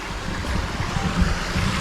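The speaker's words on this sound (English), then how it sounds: "there's a waterfall" Waterfall along the Cascade Trail in the Southern Cascades, heard as a steady broadband rush of falling water with wind buffeting the microphone, continuous and fairly close.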